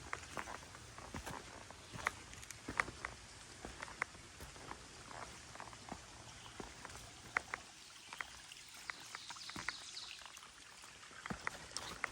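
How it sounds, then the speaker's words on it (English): Quiet, uneven footsteps crunch and tap across rocks, with sharp scattered clicks over a faint background of flowing water. "Walking on rocks."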